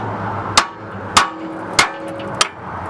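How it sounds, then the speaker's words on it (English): Four evenly spaced, sharp metallic hammer blows ring out up close as a pickle fork is struck to break a steering taper loose during a bell crank install, with a quiet pause between each strike. "So what we're going to do is take a pickle fork. We're going to hit it, try to break it loose."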